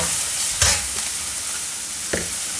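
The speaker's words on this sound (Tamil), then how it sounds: "ஆனியன் கொஞ்சம் கோல்டன் ப்ரௌன் வந்ததுக்கப்புறம் டொமேட்டோ போட்டு" Onions fried to golden brown, then tomato, sizzle steadily in a pan for a restaurant-style paneer tikka masala, with two sharp stirring clacks breaking the continuous close hiss.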